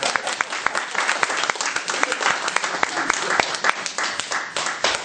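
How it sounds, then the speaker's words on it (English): A room of people applauding for Deborah at a club gathering, loud and sustained clapping with distinct close hand claps popping out, and voices chattering underneath. "Big round of applause for"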